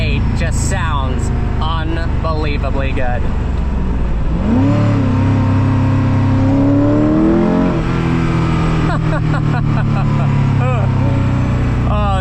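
A Koenigsegg CCX V8 engine revs hard on the Autobahn, its pitch rising and falling through gear changes, loud and close, with brief voice-like sounds early on.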